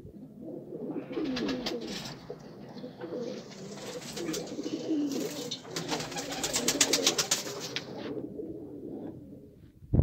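Domestic pigeons in a setup of female birds coo repeatedly, with low, rolling, throaty calls overlapping and swelling over about ten seconds, close by, with some wing or cage rustle.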